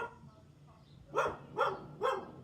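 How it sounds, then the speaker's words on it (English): A neighbor's dog barks three times at an even pace from some distance, each bark clear above a quiet outdoor background. "that's the neighbor's dog barking."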